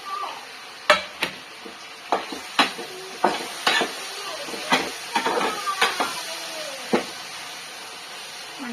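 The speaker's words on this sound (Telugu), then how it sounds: "మంచిగా వీటిని ఫ్రై చేసుకుంటున్నాను టమాటాలు వేసేసుకున్నాను" Capsicum, carrots and tomatoes fry in a pan with a continuous soft sizzle, broken by a dozen sharp scraping knocks of a spatula stirring against the pan at uneven intervals, close up.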